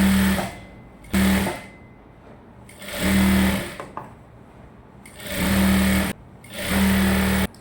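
A sewing machine stitches the folded hem of a gown in five loud, close bursts of rapid whirring, with short quiet pauses between runs as the fabric is adjusted.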